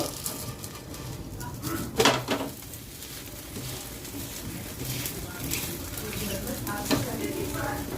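Rice and lentil batter pancake frying in a pan, giving a soft, steady sizzle with occasional scraping stirs. Faint birdsong and distant household sounds run in the background.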